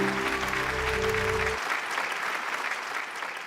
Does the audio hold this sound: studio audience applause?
yes